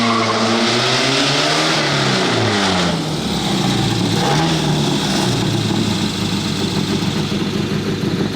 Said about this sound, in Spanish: Pero este motor, 2000, todo aluminio, es un motor que realmente fue